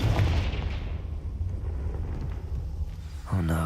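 A Confringo spell explosion in Hogwarts Legacy, a deep booming blast that rolls and decays over a few seconds, loud and close, followed by a fresh low burst of sound near the end.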